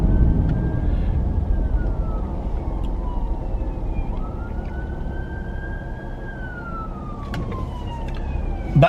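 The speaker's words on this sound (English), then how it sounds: "there's ambulances and police cars all over the place" Emergency sirens from ambulances and police cars wail and sweep steadily over rumbling traffic, a long rising and falling tone carrying on throughout at moderate distance, with a few sharper sounds near the end.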